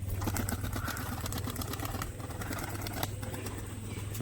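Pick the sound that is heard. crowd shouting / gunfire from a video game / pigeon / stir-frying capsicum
pigeon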